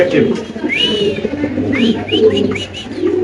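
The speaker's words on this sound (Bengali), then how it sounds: "এই কবুতর মাশাআল্লাহ আপনি দেখতে পাচ্ছেন" Pigeons coo repeatedly in soft, throaty rolls nearby, with brighter bird chirps scattered over them and a person talking in the background.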